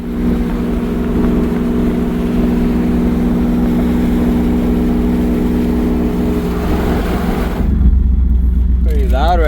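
A car engine idles loudly at a cruise-in, a steady low rumble throughout with a voice talking over it near the end.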